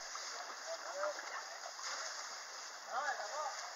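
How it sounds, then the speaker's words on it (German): An elephant spraying water: a steady, moderate hiss and splatter of water with sloshing bursts, continuous and fairly close. "Wasser sprühen."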